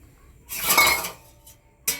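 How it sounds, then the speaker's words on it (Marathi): A metallic clatter as a lid settles onto a pot, followed by a short clink a moment later, close and fairly soft. "आता त्याच्यावर झाकण ठेवायचं."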